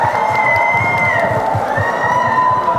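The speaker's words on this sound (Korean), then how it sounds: "여러분 다시 한 번 큰 박수 부탁드리겠습니다" A crowd at a film showcase event cheers and claps loudly and continuously, with excited shouts and high whooping voices over a steady roar of applause.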